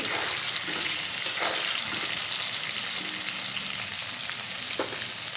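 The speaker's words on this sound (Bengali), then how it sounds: "এখানে গ্যাসের ফ্লেম মিডিয়ামে রেখে বেগুনগুলো আমি ভেজে নেব।" Brinjal pieces fry in a pan over a medium gas flame, giving a steady close sizzle and crackle that runs unbroken throughout, with a few faint utensil touches and no talking.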